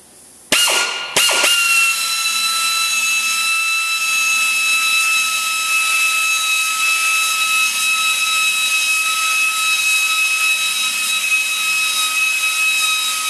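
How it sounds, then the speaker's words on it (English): A DeWalt pneumatic air drill, used to remove fisheyes from clear coat, starts after two short bursts, then spins continuously with a loud, high-pitched whine and airy hiss. "I'm just using it on a DeWalt air drill."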